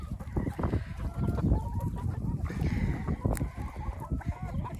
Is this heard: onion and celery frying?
no